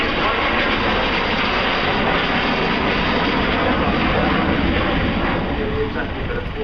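An Avro Vulcan XH558 delta-wing bomber flies over the Farnborough airshow. It makes a loud, steady, broadband roar that holds without a break, and voices talk faintly beneath it.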